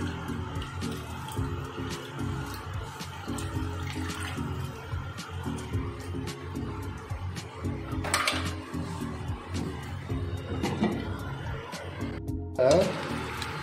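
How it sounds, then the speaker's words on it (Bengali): Metal pot and utensil clatter from stirring cauliflower and potato vegetables after warm water is added, with scraping and clinks over steady kitchen background and some tonal noise, plus a brief splashing burst near the end. "সেই গরম জল কিন্তু উষ্ণ গরম জল আমি এবার দিয়ে দেবো সবজির ভিতরে। দিয়ে হালকা করে নাড়িয়ে চাড়িয়ে আমি ঢাকা দিয়ে দেবো।"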